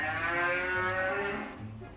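Cow mooing in a guess-the-sound game, one long loud drawn-out moo heard alone and close.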